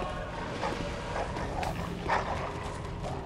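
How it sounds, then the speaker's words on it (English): Dogs bark and yip from inside a building in Bloodborne, several agitated barks scattered over steady background noise, somewhat muffled and not close. "you can hear the dogs inside of there. They're going crazy."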